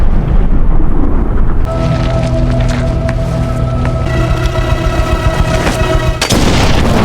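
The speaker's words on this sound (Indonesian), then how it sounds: "Atami pun meledakkan ranjau itu untuk menghalangi pandangan Bruno dengan debu-debu yang berterbangan" A landmine set off in an action film about a former Finnish commando, a loud, sustained booming roar with a rumbling blast tail and a sharp burst near the end.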